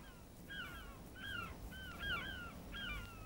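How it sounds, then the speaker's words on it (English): Seagulls gathering along a coastline, a handful of harsh, clipped calls repeating at a moderate distance over steady wind and surf noise. "We noticed all these seagulls gathering further up the coast."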